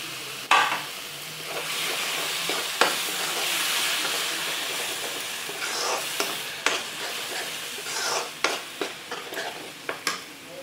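Tomatoes go into frying soybean mixture in a pan and hiss loudly, with scraping stirs and sharp clacks of a spoon against the pan that grow more frequent toward the end.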